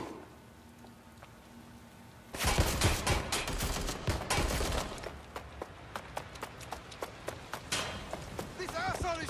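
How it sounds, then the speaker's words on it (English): Gunfire in the video game Watch Dogs Legion erupts after a quiet stretch, first as a dense loud barrage, then as regularly spaced single shots, with a character's voice talking over it. "This asshole is shooting!"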